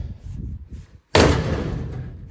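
A 1955 Chevy Nomad car door swings and latches shut with a single loud slam, sharp and close, after a stretch of low rumbling handling noise.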